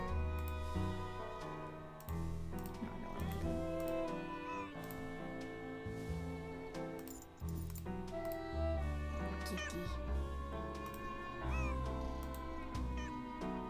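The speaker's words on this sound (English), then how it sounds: "He's still meowing." A cat meows repeatedly and insistently in the game Nancy Drew: Secret of the Old Clock, its cries layered over steady background music.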